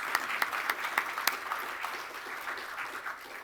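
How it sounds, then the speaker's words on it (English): Audience applause at a hospitality law conference: a dense patter of clapping with a few sharper, closer claps in the first second, then easing slightly and thinning toward the end. "that to me deserves its own separate round of applause"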